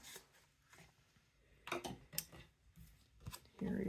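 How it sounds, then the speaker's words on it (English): A bone folder scrapes across folded card stock in a few short, close, dry strokes with a sharp final pass, set in a quiet crafting space. "Bone folders are handy for making that crease nice and sharp."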